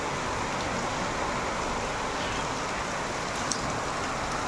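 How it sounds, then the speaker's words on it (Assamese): Heavy rain falling outside, a steady, even hiss of dense rainfall with no pauses, heard alone at moderate level. "কি যে বৰষুণ হৈছে নহয়,"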